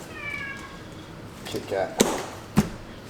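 A pet cat named Kit Kat meows in a kitchen, a short series of harmonic mewing calls near the start, followed by a few sharp knocks and clatters.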